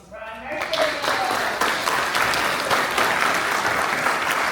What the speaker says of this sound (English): let's give a huge round of applause to Mr. Brian.